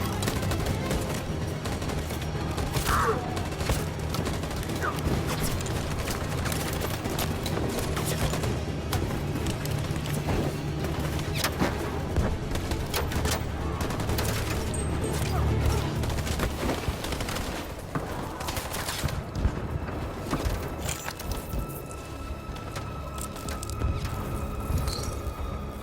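Gunfire volley in the video game Detroit: Become Human: dense, continuous bursts of rapid shots and crackling impacts over a rumbling background, sustained for the whole stretch with no voices.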